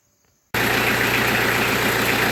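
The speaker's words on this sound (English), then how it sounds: "we're going to use the forklift here to lift up the mower deck to make it easier to" A forklift engine on a farm, used to lift the mower deck of a Kubota B3030 tractor, bursts into loud running after a quiet start, then holds a steady, close, vibrating idle throughout.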